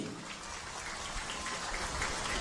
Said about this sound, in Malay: tepukan kuat-kuat untuk diri sendiri